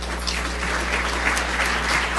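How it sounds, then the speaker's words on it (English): An audience at a Tri-City Chamber business gathering breaks into a steady round of applause, dense, even clapping that holds at a constant level for the whole stretch without talk. "Please join me in giving these members a round of applause as well."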